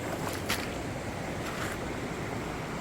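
Cool river water rushing along a rocky riverbank, a steady broadband wash close to the microphone with light wind buffeting and no voices.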